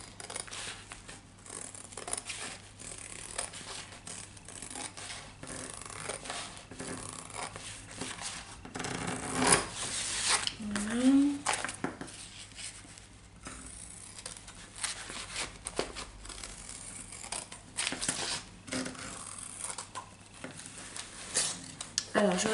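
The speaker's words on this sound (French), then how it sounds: "Donc je vais le découper. Je vais le découper au ras." Scissors snip around a diamond painting on a canvas, producing small scattered clicks and rustles of cutting and paper handling, faint and close with no talking.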